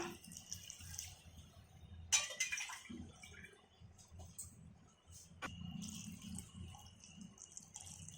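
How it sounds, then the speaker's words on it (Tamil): Faint splashing and trickling as two tumblers of water are poured into a pressure cooker, in short uneven bursts with quiet gaps between. "இதெல்லாம் வேகிறதுக்காக ஒரு 2 டம்ளர் தண்ணி ஊற்றிப்போம்."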